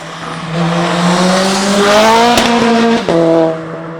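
A tuned 800 hp VW Golf 5 GTI roars loud and close, revving steadily upward for a few seconds, briefly dipping at a shift, then climbing again before cutting off.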